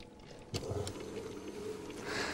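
High-pressure water jet spraying into the buckets of a Pelton turbine on a storage hydropower plant model, a continuous hissing splash that starts abruptly and holds steady, fairly close, without talk.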